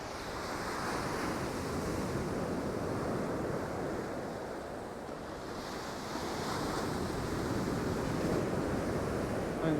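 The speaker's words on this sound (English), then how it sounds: "I think the sea's just picked up again. It's having one last surge." Sea waves surge onto the shore at Sutton on Sea, a continuous distant roar that swells slightly toward the end, with wind in the background and no one speaking.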